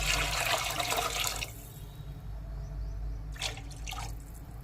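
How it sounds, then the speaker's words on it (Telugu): Water is poured for a tamarind fish curry being cooked in a home kitchen: a close, loud rushing splash for about a second and a half, then quieter drips and trickles into the pot. "ఇప్పుడు వాటర్ పోసుకుందాము."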